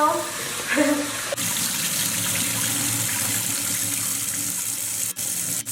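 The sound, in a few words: rinsing lentils under running tap water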